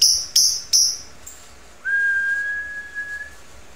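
A female lovebird in molt gives three quick, bright chirps, then holds a long, steady, high whistle that fades near the end. It is close and clear with no talking.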